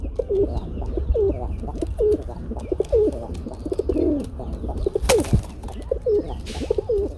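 Native village pigeons of Bengal coo in a steady, repeated rhythm, each soft call following closely on the last. They sound close and fairly loud, with one sharp knock partway through and low background noise underneath.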